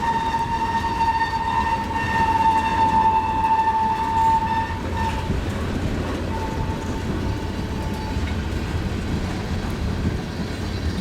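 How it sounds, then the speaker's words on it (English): A long CN freight train slows along the frozen Cedar River in snow, its horn sounding a long, loud sustained blast, then a shorter one, over a steady low rumble of rolling cars. "this long train is going to be slowing down as he is right now."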